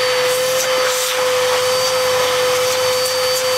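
A Bissell Powerforce vacuum cleaner with weak suction and a brush roll that won't spin runs close by, giving a steady, loud motor drone with a sharp constant whine on top.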